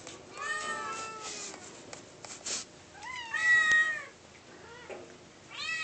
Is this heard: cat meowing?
yes